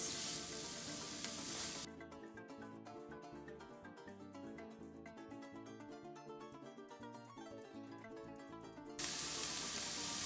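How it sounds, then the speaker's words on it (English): Peppers and onions sizzling in a frying pan for a morning tofu scramble, a steady loud hiss that drops to a softer crackle with stirring clatter, then swells back to a full sizzle. "So now I'm adding peppers and onions to the pan."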